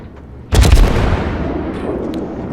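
Main battery guns of the heavy cruiser Myoko fire a broadside in the naval game World of Warships: one sudden, very loud, close boom followed by a long rumbling roar that slowly fades.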